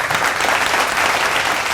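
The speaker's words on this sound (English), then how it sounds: "Please give a round of applause to yourself." Steady, dense applause from a live watch-party audience, loud and continuous throughout with no pauses.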